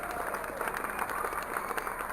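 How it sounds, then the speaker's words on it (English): A rodeo crowd applauds a pair of contestants, a brief spell of steady, fairly faint clapping from spectators spread across the arena. "Would you give them a round of applause today?"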